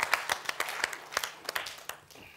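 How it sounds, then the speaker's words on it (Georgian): An audience applauds in a sparse, scattered way, with individual claps popping out at irregular intervals, fairly light and thin, no voices over it. "კიდე ერთხელ აპლოდისმენტები."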